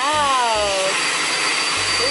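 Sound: vacuum cleaner running

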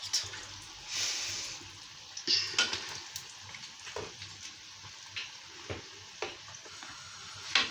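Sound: sesame balls frying in oil

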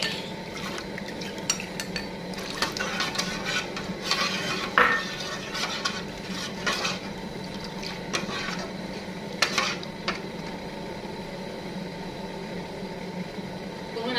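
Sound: stirring curry paste into water in a pot

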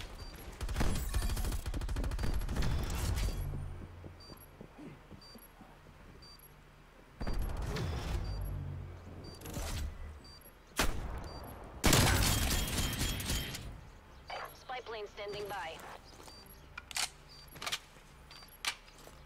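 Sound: gunfire from the video game Call of Duty Cold War

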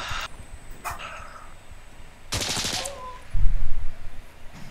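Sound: shotgun gunfire in video game Insurgency Sandstorm

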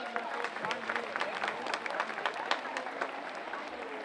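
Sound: crowd applause at Ladywalk event

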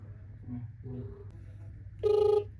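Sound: telephone ringing tone while dialing a call

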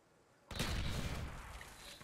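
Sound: gunfire in video game Black Ops

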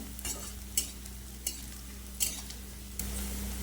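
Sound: onion and garlic frying in a pan

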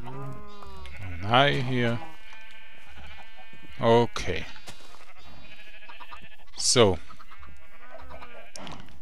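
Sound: sheep bleating in the video game Minecraft

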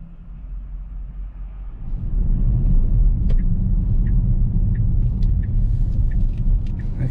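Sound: morning traffic on the road, heard from inside a Tesla

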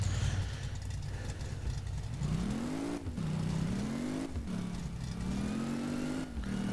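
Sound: car engine revving and accelerating in video game My Garage

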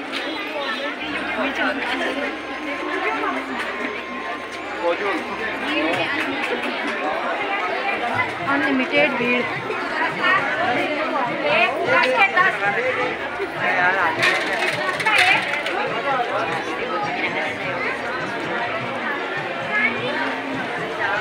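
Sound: crowded market street during Dhanteras

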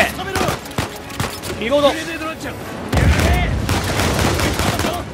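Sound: gunfire in the video game Uncharted 4

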